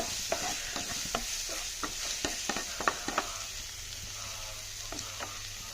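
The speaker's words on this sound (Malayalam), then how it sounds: "ഇതിൻ്റെ പച്ചമണം മാറുന്നത് വരെ നമുക്ക് നന്നായിട്ട് വഴറ്റി കൊടുക്കാം" Crushed garlic and ginger sauté in a hot pan, a steady sizzle under repeated quick scrapes and taps of a stirring spoon, close by and with no talking.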